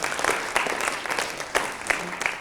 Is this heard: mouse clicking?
no